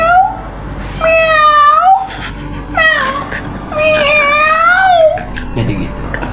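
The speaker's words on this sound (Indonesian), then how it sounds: "Lalu ada kucing mengeong-ngeong di situ" A cat meows loudly and close by, four or five drawn-out, wavering meows in quick succession.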